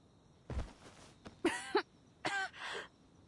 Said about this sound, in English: She coughs and a small trickle of blood escapes her lips.